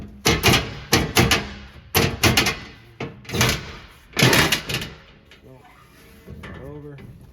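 Entry steps of a 2014 Forest River Grey Wolf 26BH camper trailer pulled out at the upper door, a series of sharp metallic clanks and rattles up close, followed by someone speaking.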